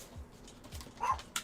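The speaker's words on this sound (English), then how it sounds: "Sorry about the dogs, guys." Dogs yip and bark indoors during a budget gaming PC build, a few short faint barks spread out and heard at a distance, with small clicks between them.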